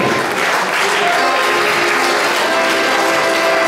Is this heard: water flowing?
no